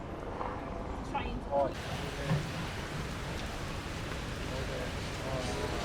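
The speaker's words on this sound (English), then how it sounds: "It is raining quite a lot" Constant broadband wash of rain in Melbourne city centre throughout, fairly loud, with a voice briefly heard early on.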